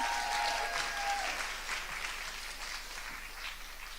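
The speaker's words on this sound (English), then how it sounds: "we need another round of applause when she gets to the stage." Audience at a youth poetry slam regional heat claps steadily in a dense round of applause that tapers slightly toward the end.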